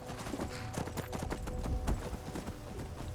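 A horse sets off with a rider, its hooves clip-clopping in a quick, steady rhythm, moderately close but fairly quiet, with no talk over it.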